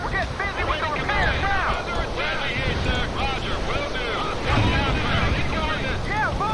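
Boat engines in the Cold War strategy game World in Conflict: a steady, loud broadband drone with wind-like rushing and scattered whistling chirps, under indistinct background voices.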